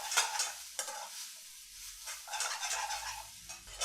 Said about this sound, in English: Your rice is hot, and then you just want to mix it.